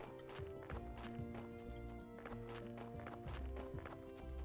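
A donkey in Graveyard Keeper walks back and forth, its soft hoof clops sounding in an irregular rhythm beneath steady layered game music, faint and fairly distant.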